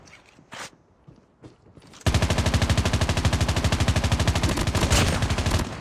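Rapid automatic gunfire from a multiplayer shooter video game, a dense sustained burst that starts abruptly after a quiet stretch of faint footsteps and clatter, then continues loud and steady to the end.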